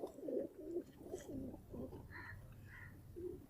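A pigeon coos nearby, soft low throaty calls repeating, followed by a couple of faint higher chirps.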